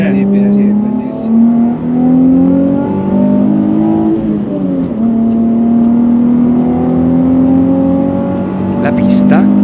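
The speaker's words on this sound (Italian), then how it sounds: "questa macchina non sai se è più bello il suono dello scarico o del motore" A Nissan 350Z V6 engine drones and revs with a throaty exhaust on a track, pitch rising and falling steadily, loud and close.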